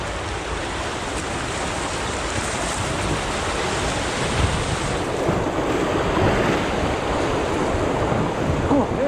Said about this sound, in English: Nice section of rapids right there.